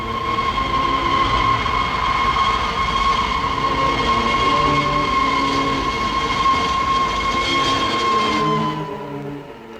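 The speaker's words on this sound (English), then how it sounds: "The Paris train." A train passes near a signal box on the line to Paris, a loud steady rumble with a sustained high whistle-like tone throughout, fading at the end.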